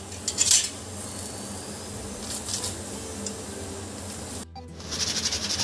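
A utensil scrapes and clinks against a griddle while spreading desi ghee over a masala paratha, with a soft sizzle underneath and a brief metallic rattle near the start.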